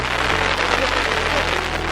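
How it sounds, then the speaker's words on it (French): Hail falling in Japan, a dense, loud, continuous patter of pellets striking surfaces and an umbrella close by, with a low rumbling hum underneath. "La grêle au Japon, il y a des cailloux qui tombent."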